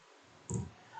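A single Enter key press on a computer keyboard while working in Word 2016, one short near click standing alone against quiet background.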